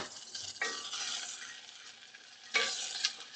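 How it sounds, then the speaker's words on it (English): Spices temper in hot ghee with a soft, steady sizzle close by, broken by a couple of brief stirring scrapes, fairly quiet, with no talking. "I'm just tempering the spices in the ghee."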